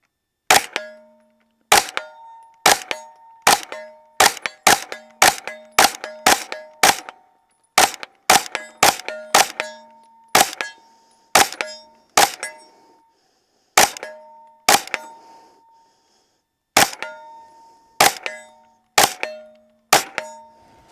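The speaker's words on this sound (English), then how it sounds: "let's see how fast I can shoot" A S&W FPC 9mm fires rapid shots at steel targets, each loud crack followed by a ringing metallic clang. Around twenty shots land in quick bursts with short pauses, recorded close with no talk.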